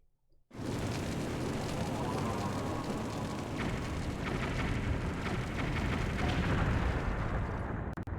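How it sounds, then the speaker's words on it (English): Explosions in the video game Twilight Princess, in the Eldin area, burst in suddenly and hold as a loud, dense, continuous roaring rumble with crackling texture for several seconds before cutting off. "I should also get out before the explosions can get worse."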